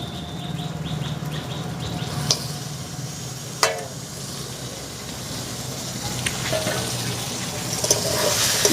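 Chicken pieces go into a pan of fried spices and soy sauce for kosha murgir mangsho, a steady frying sizzle with scattered clinks and stirring scrapes, close and moderately loud, with a faint voice in the background.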